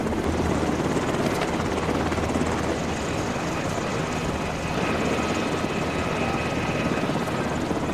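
A helicopter carrying refugees in an evacuation from a war conflict zone drones steadily and loudly throughout, its dense rotor and engine roar constant with no voices audible.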